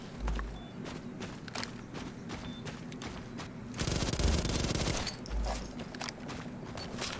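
Gunfire in the first-person shooter Ballistic Overkill: a few isolated shots early, then a dense burst of rapid automatic fire in the middle and another short burst later, with footsteps and game ambience between.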